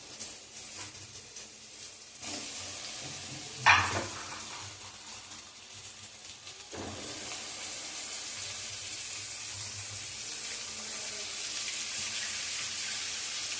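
Tomatoes go into hot oil in a pan while upma with ridge gourd is cooked, giving a soft steady sizzle with a brief louder clatter and stirring scrapes partway through.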